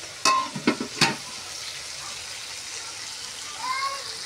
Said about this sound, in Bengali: চলো এটা ভাজা হয়ে যাক, তারপরে তোমাদের সাথে আবার শেয়ার।